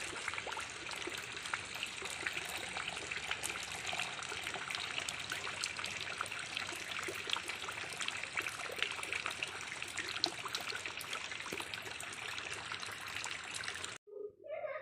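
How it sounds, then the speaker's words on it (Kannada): Water trickles steadily onto cut field beans set to soak, a faint continuous pouring and dribbling sound heard close up, with no talk. "ಈಗ ನೀರು ಹಾಕಿ ಇಟ್ಬಿಡ್ತೀನಿ."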